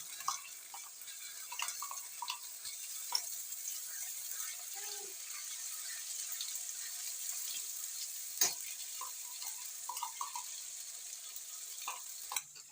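Spice paste frying in a pan for a Bengali potato and paneer curry, a quiet steady sizzle with occasional scrapes and taps of a utensil, faint and close, no talk.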